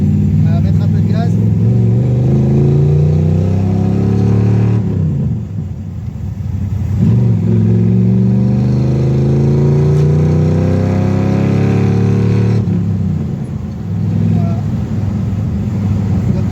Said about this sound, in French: On va mettre un peu de gaz.